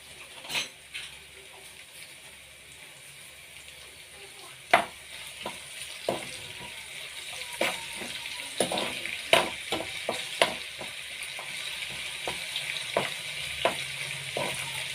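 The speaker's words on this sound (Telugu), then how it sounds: "గోల్డ్ కలర్ వచ్చే వరకు ఉల్లిపాయ వేగించుకుందాం" Onions fry in oil for an ivy gourd fry, giving a steady hiss broken by sharp clinks and scrapes of stirring.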